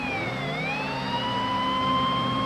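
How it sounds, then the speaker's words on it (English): Police car siren wails loud and close over highway road rumble, its tone sweeping down then rising and holding steady. "I had my blue lights and sirens and my alternating headlights going when I overtook it"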